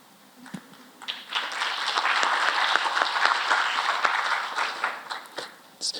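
Applause from a conference audience at the Louisiana Smart Growth Summit. The clapping swells quickly into a full, sustained round, then fades away near the end.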